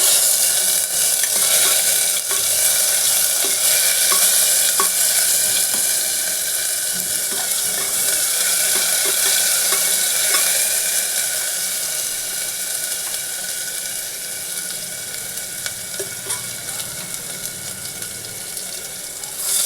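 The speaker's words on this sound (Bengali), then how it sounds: "রসুনটা একটুখানি ভেজে নিয়ে" Garlic frying in oil in a pan while cooking Bengali mung dal, a steady, loud hiss and sizzle with occasional light clinks and scrapes of stirring, easing slightly toward the end.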